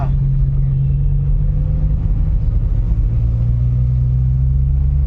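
Car cabin during a drive, steady low engine and road rumble holding constant throughout, loud and close, with no clear change in speed and no speech.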